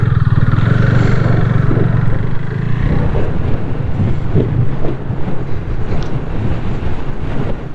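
A motorcycle rides onto Darcha Bridge, the longest bridge in the Lahaul and Spiti valley. A steady low engine rumble is heavily buffeted by loud wind across the microphone throughout, with no talk.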